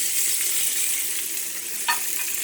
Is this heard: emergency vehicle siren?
no